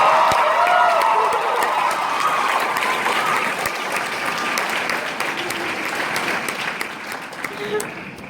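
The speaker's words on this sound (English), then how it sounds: "can we one time just put our hands together and cheer for our amazing, energetic, and the most enthusiastic SEC president of all time" A graduating class audience at a Sir Wilfrid Laurier Collegiate Institute 2016 commencement applauds and cheers for the SEC president, a loud, dense roar of clapping with whoops that stays strong for several seconds before gradually easing.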